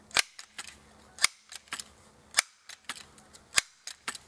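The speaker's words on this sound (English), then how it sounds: "we're going to put about 10 pumps on this gun" A .22 caliber pump-action pellet air gun being pumped, sharp mechanical clicks and clacks at an irregular pace, close and crisp against a quiet background.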